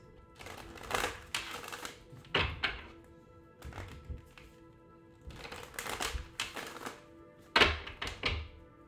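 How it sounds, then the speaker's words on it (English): Cards being shuffled and handled in bursts, with riffling rustles and soft thumps on a surface, close by and intermittent. "Let me shuffle these."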